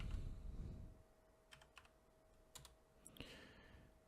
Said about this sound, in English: So now we type in enable password.